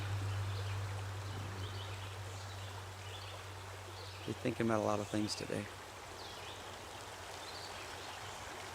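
A creek along the Appalachian Trail flows with a steady, soft rushing hiss throughout, and someone speaks briefly over it near the middle.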